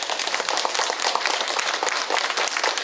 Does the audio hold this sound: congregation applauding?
yes